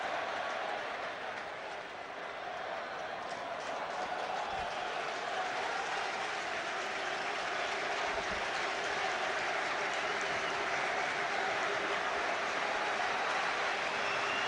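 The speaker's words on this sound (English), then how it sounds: "every England fan gets to his and her feet to applaud him" England fans at a 2006 England v Wales football match in a stadium, on their feet applauding David Beckham, a dense continuous roar of clapping and crowd noise that holds steady throughout.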